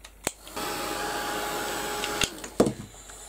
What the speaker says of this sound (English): I'm going to give this a quick blast with the heat gun.